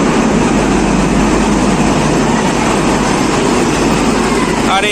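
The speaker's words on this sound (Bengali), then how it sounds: "দেখি এটা কি ট্রেন ঢুকছে।" An express train rolling into a railway station produces a continuous loud, heavy rumble with steady rolling noise throughout.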